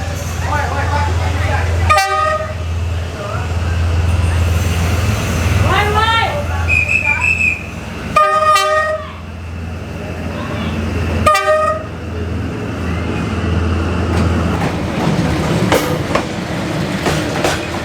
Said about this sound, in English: then it was time to watch the train go by